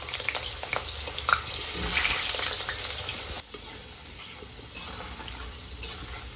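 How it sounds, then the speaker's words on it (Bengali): Diced potatoes fry in hot oil, a close, bright crackling sizzle that swells early on and then settles to a softer hiss, with a few stirring knocks and no voices. "এই ডুমো ডুমো করে কেটে রাখা আলু ভেজে নেব।"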